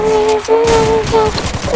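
Gunfire rattles in a shooter video game, a quick burst of several loud, close shots over steady tonal game sounds, with a faint voice underneath.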